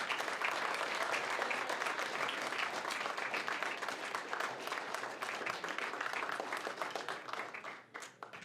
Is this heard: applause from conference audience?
yes